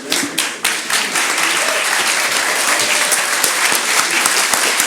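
An audience at a public meeting applauds steadily, a dense wash of clapping from many hands that holds at an even level for several seconds.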